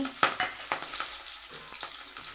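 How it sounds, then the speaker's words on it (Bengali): Dried red chilies, slit green chilies and nigella seeds frying in hot oil make a soft sizzle broken by a string of sharp, irregular crackles and pops. "তেল আমার গরম হয়ে গেছে একটা শুকনো লঙ্কা কাঁচা লঙ্কা চেরা এবার দেবো কালো জিরে"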